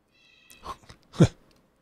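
A cat meows twice in quick succession, a short soft call followed by a louder, longer one, close by and with no talk over it.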